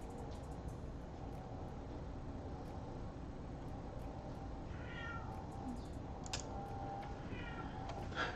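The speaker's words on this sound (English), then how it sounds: "cat, cat, cat, cat, cat, cat, cat." A cat meows faintly a few times over a steady background hum, distant and soft, with no talking.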